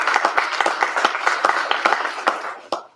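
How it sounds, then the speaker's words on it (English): An audience at an evening academic recognition event claps in warm, moderately loud applause, an irregular patter of hands that fades out with a few final claps. "So let's give Miss Liberty Case a round of applause."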